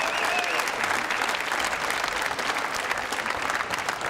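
Crowd at the 2001 World Pool Championship applauding during a match, a dense and steady sustained clapping that holds loud and even for the whole stretch.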